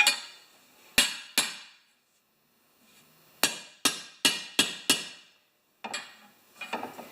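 Sharp metallic hammer blows on bent metal from a Tecumseh 6.5HP VLV mower ring out, two early strikes then a quicker run of five, followed by lighter taps, each decaying with a short ring.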